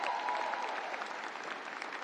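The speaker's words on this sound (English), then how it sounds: "Let's give them all a big round of applause" An indoor audience at a pharmacy school hooding ceremony claps in a dense, sustained round of applause, moderately loud and steady for the whole stretch.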